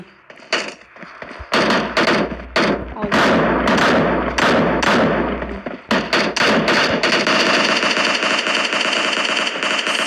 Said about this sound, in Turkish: Lan benim adamım bana sıkıyor